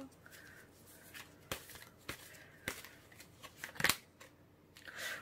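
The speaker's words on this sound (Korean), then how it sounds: "조언 카드 하나 뽑아볼까요? 자, 섞어서" Tarot cards being shuffled by hand before a card is drawn: soft, quiet swishes and sharp papery snaps at irregular moments, close by, with no talk.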